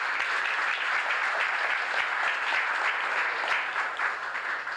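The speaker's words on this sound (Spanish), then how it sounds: "Un aplauso para él." A crowd claps steadily and warmly throughout at a September 16 celebration event in San Jose, 1982, dense applause at even moderate loudness with no voices over it.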